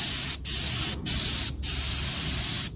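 Tack coat of spray paint going onto a mag wheel: three steady aerosol hisses separated by brief pauses, close and fairly loud, with no voices.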